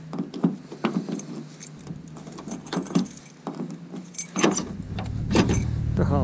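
Keys jangle and clink in several bursts at a classic car's door in upstate New York, with a few scrapes and clicks, then an engine hum rises at the end.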